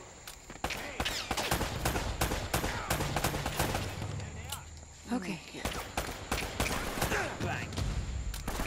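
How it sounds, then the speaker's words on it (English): Rapid gunfire crackles through a firefight in the video game Uncharted, dense bursts of shots under a man's brief spoken word. "They're shooting at you too, you know."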